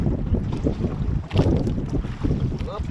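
Gusty wind buffets the microphone in low rumbling bursts, mixed with the churn of a boat moving over water on a fishing trip.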